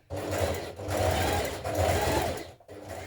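A sewing machine runs steadily, stitching a row of gathering on a blouse 6mm from the previous one, with a whirring motor hum and brief stops between runs, close and alone.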